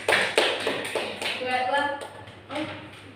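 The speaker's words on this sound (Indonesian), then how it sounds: "tepuk tangan untuk kelompoknya Pati" Classroom applause for a student group during a primary-school teaching session: a few quick, scattered claps at the start, close by, soon giving way to voices talking.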